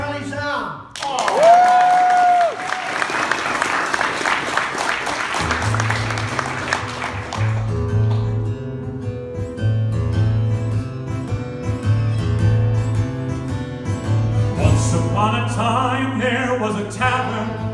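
An audience at a folk concert claps in a burst that gives way to a guitar and voice starting the song, the clapping thinning under the music.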